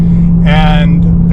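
Exhaust note of a 2024 Toyota GR Supra 3.0 Premium accelerating, a loud steady engine drone with a rising harmonic swell in the middle, heard from inside the car.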